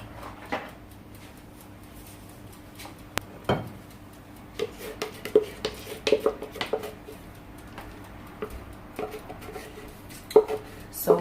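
Wooden stick spoons stirring melting soap oils in a crock pot, scattered soft knocks and scrapes against the pot with faint clinks over a quiet background hum.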